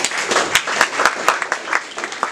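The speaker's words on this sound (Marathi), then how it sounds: "कपिल सरांसाठी जोरदार टाळ्या." An audience at a poetry gathering claps for Kapil sir on his arrival, with quick, sharp handclaps in a lively, uneven rhythm close to the listener.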